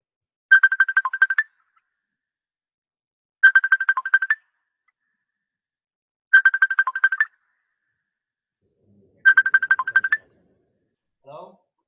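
A mobile phone ringtone plays four identical bursts of rapid electronic trills, each about a second long and evenly spaced, loud and clear with no voices over them.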